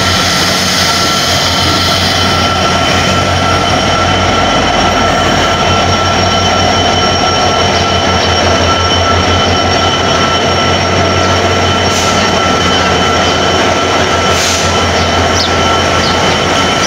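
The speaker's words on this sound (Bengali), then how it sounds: "আলহামদুলিল্লাহ ট্রেন চলে আসছে" Train pulling into a station on the way from Dhaka to Ishwardi, a loud continuous rumble and clatter of rail cars with metallic wheel squeals and hissing, close and unbroken for the whole stretch.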